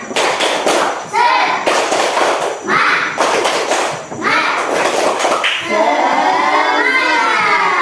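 Schoolchildren in a primary classroom stand and perform a rhythmic spirit-clapping routine, with loud, patterned bursts of hand claps between chanted children's voices that swell into a sustained shout near the end.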